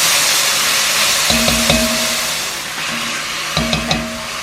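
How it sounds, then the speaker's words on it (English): Garlic sizzles in a pan as a steady loud hiss, with two clusters of spoon-and-pan clatter as it is stirred, nearby and without speech. "But put that garlic in there. I'm gonna mix that up a little bit."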